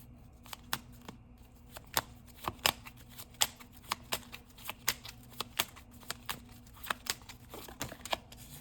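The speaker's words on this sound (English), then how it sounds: "I was shuffling for a minute" Cards are shuffled by hand, making a quick series of sharp, papery snaps and clicks in an uneven rhythm, close up and with no speech.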